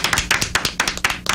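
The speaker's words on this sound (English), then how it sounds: "I'll applaud that." Hand clapping in a radio talk-show studio: roughly eight close, crisp claps in a steady, fairly quick rhythm, with no talk over them.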